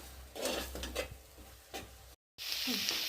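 Chopped garlic added to well-browned onions sizzles in a pan, with a spoon stirring and scraping against the metal in short strokes, soft and close, a brief dropout, then a brighter steady sizzle.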